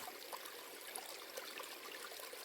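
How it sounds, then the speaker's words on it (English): Small creek flowing at a trail crossing in New Zealand's Silver Peaks, a soft, steady trickle and babble of water heard alone, faint and continuous. "Another little creek crossing down here."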